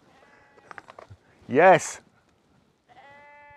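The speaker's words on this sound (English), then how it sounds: "Flipping sheep, always have to get the last word in." A sheep lets out one loud, wavering bleat right after a man's short spoken outburst, near and clear, with more of his talk resuming afterward.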